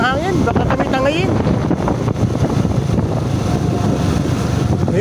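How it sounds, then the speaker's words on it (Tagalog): Heavy wind rushing past during a Euro Rapido 110 motorbike ride from Tagaytay toward Talisay, Batangas, a steady loud rumbling roar with a voice speaking at the beginning. "Ang lakas ng hangin. Baka kami tangayin."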